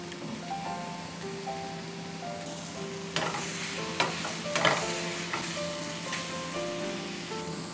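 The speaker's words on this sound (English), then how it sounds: "So these are the tomatoes and we are going to cook them until they are soft." Tomatoes cooking in a pan until soft, with a steady sizzle and a few spoon scrapes and knocks near the middle. Soft music plays underneath, and no one talks.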